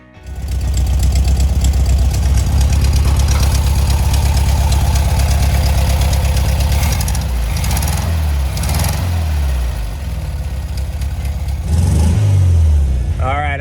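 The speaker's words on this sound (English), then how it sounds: "Carburetor definitely needs to be cleaned. Is not running great at all." A classic VW Beetle engine with a dirty carburetor runs rough, a loud uneven idle with low throbbing and a few revving swells, heard close up with brief talk near the end.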